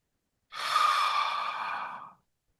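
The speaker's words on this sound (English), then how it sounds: "Deep exhalation." A single deep, long exhalation in a breathing exercise, close and fairly loud, a breathy sigh-like rush of air lasting under two seconds with no talk.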